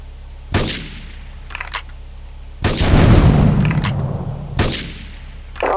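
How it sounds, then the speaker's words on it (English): Three sharp blasts of gunfire and explosions in Grand Theft Auto 3, the middle one a long rumbling burst, separated by quieter ambient hum. "Investigate reports of gunfire and explosions."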